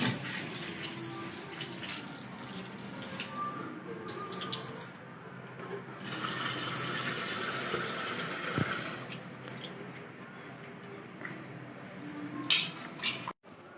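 Rice is washed by hand in water before soaking, with close sloshing and splashing of water in a vessel, swishing grains and occasional light metallic clinks of the pot.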